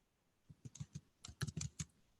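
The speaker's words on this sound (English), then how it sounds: "I'm typing up what my answers." Quiet, close keystrokes on a computer keyboard tap out in an irregular run of about a dozen clicks, with no talking.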